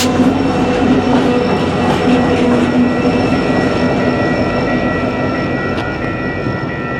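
A Union Pacific coal train rolls past in Fremont, Nebraska, with leased coal hoppers ahead of a block of Alliant Energy COLX hoppers and SD70AH 8806 on the rear. The loud, steady roar of the passing cars continues throughout, with a high metallic whine.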